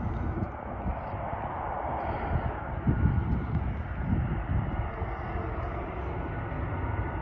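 Jet2 Boeing 737 from Alicante arriving at Leeds Bradford airport, a steady broadband engine roar with wind buffeting the microphone, swelling slightly near the middle and holding at a moderate distance throughout.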